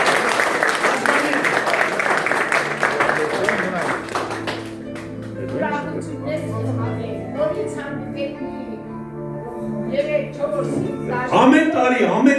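Applause from a gathered crowd at a school graduates' reunion fills the first few seconds, then fades as people talk over the room.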